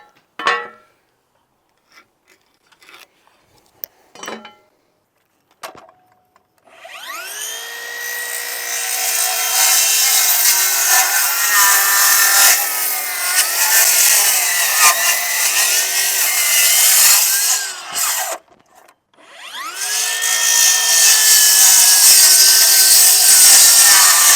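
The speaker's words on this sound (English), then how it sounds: "get an oscillating saw, dude. That'll do it right there." An oscillating saw cuts wood while a backyard patio cover is built, starting after a few light knocks with a loud, sustained buzzing whine that wavers in pitch, breaks off briefly, then resumes near and strong.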